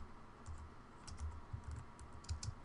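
Quiet, close typing on a computer keyboard, soft irregular key clicks in short bursts over a low background hum, with no talk.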